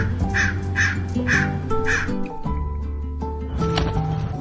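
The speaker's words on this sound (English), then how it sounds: "There's another couple of crows that come by" Crows give four loud, evenly spaced harsh caws close by, then quieter calls follow, over a background of steady tonal hum and a brief voice.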